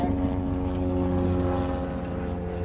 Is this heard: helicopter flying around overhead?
yes